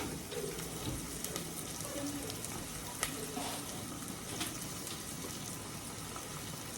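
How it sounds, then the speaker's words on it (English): Garlic frying in a pan alongside seasoned barbecue ribs, a soft, steady sizzle with faint crackles and a few light clinks, quiet and continuous with no talking. "So I'm just going to add a little garlic to this."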